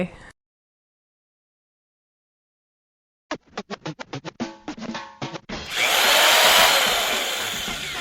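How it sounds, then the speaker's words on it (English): A power drill starts up after a silence, first in short bursts of whirring and clattering, then running loud and continuously with a harsh grinding buzz. "Wait, is that a drill?"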